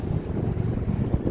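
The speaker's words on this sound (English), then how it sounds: "Of course, that's when the wind blows." Strong outdoor wind buffets the microphone with a constant low, rumbling roar that fills the whole moment, with no voices over it.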